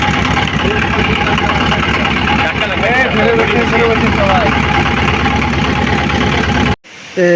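A boat engine runs on Mahamaya Lake in Chittagong, a loud, steady mid-pitched drone that continues without a break before cutting off abruptly at the end, with people talking over it.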